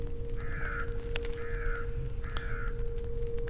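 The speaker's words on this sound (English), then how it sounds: "Why do the crows not come into this area of the churchyard?" Three evenly spaced crow caws in a churchyard in the video game The Lost Crown, each a short harsh call over a steady low hum and rumbling ambience.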